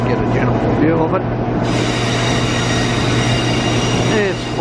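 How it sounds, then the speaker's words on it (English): The Spirit of Queensland passenger train sits at platform 10, its steady engine hum and drone filling the station while someone talks over it. "It's quite a reasonable and satisfactory train."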